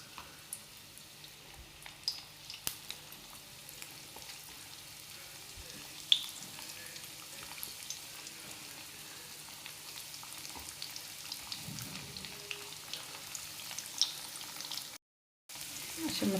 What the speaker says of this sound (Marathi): आता हे सगळ्या आपण एक एक असे सगळे सोडून घेऊ, असे मस्त फ्राय करून घेऊ त्यांना